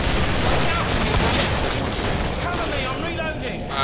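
Rapid automatic shotgun blasts from an AA12 in Killing Floor, a dense, loud barrage of booming shots running nearly continuously with chaotic game noise and speech mixed in.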